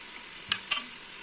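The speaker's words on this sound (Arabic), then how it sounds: "حتى يتقلى لنا مزيان اللحم والثوم. كنقلبو فيه،" Meat and garlic fry in a pan with a steady, fairly quiet sizzle, broken by two short scraping stirs of a utensil close by.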